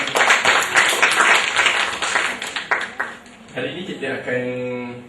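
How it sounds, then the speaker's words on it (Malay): A workshop audience of Malaysian entrepreneurs claps together in a hall, a dense round of applause that fades after about three seconds as a voice takes over. "Satu tepukan untuk anda semua."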